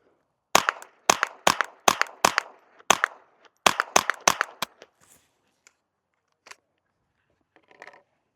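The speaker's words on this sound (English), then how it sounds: "It'll probably still be loud and get that supersonic crack, but let's try it." About eleven sharp, loud cracks from a Ruger Charger .22 pistol firing CCI Mini Mag rounds, spaced at a steady rhythm, followed by a few faint clicks and handling noises near the end.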